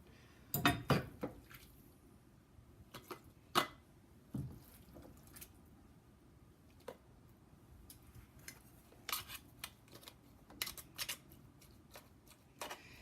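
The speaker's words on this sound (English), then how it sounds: "I'm going to start ladling the ground beef into the pint-sized jars" Cooked ground beef being ladled into pint-sized jars for pressure canning, with a series of sharp metallic clinks and taps of ladle against glass and pot, clustered early then scattered, fairly faint and close, with no talking.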